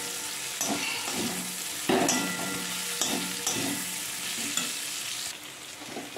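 A spoon stirs masala dosa filling in a pan with roasted peanuts and asafoetida, giving repeated scraping strokes over a soft, continuous sizzle at close range.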